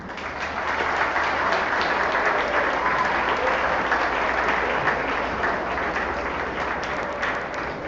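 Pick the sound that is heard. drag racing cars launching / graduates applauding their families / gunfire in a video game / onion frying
graduates applauding their families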